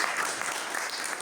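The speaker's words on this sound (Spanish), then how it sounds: "un fuerte aplauso" A church congregation breaks into a brief, strong burst of applause, dense and even, many hands clapping together close by with no voices over it.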